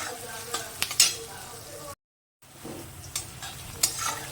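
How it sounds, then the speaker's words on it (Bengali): Onions and boiled potatoes fry in a pan for an egg curry, sizzling steadily while a utensil stirs and scrapes, with a few sharp clinks of metal against the pan and a brief gap of silence midway. "পেঁয়াজটা দেখুন ভাজা ভাজা হচ্ছে"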